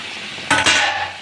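Kohlrabi is stirred into spice paste in a pan: after a brief quiet, a spoon scrapes and knocks twice against the metal pan, loud and close.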